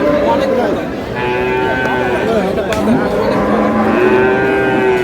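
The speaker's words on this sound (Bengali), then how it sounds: "গাভী বাছুর" At a busy rural cattle market, a cow and calf moo in long, drawn-out calls, one after another, close by over the constant murmur of crowd chatter.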